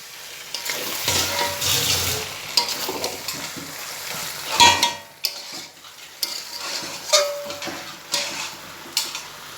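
Chicken sizzles in a pan as it is stirred and sautéed, with bursts of frying crackle and repeated scraping and clinking stir strokes, close up and without talk.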